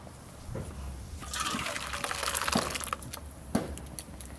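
Boiled masoor lentil dal pours from a pot in a sloshing, gurgling stream of thick liquid, with a few soft knocks and clunks of cookware at the start and near the end, fairly close and moderately loud.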